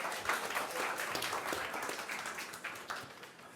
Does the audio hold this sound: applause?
yes